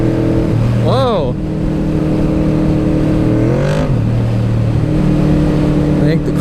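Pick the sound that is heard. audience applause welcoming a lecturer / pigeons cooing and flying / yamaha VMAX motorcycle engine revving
yamaha VMAX motorcycle engine revving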